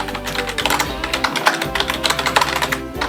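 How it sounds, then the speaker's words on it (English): Rapid typing on a computer keyboard during a speed-typing game, a loud, close, dense stream of clicking keystrokes running continuously without pause. "This is also a good typing game, seeing how fast I can type."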